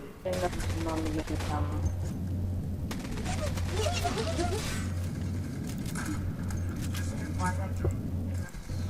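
Rapid automatic gunfire bursts from the online shooter Zula during a capture-the-flag match, repeated loudly throughout under excited player talk and game effects.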